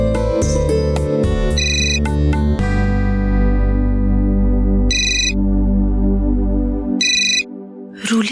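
A phone ringtone plays as a loud, melodic electronic tune with bright repeating chime bursts over a sustained tone, filling the moment alone without any voices.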